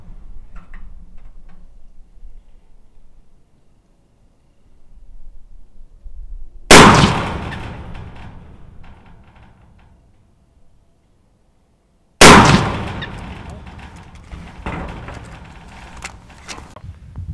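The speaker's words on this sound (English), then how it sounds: "Dugan was shooting at 100 yards, shooting the HK" HK rifle fired at a shooting range at 100 yards, two sharp loud gunshots several seconds apart, each followed by a decaying echo, with quiet range background between.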